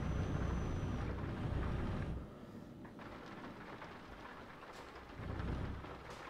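Rain and rumbling thunder in the Euro Truck Simulator 2 driving game, with a Mercedes Actros truck on the road, a steady hiss of heavy rain that eases after a couple of seconds and swells again near the end.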